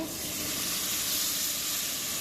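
Onions frying in a very hot pan, a soft, even sizzle holding steady and fairly faint throughout.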